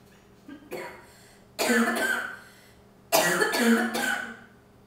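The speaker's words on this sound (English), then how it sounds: "Sometimes you'll find yourself coughing." Two long bursts of harsh, rough coughing, each lasting over a second, loud and close, separated by a quiet pause.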